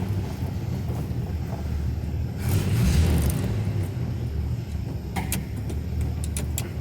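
A 1954 Chevy pickup engine idles steadily just after starting, a low continuous rumble with some wind buffeting and a few brief clicks near the end.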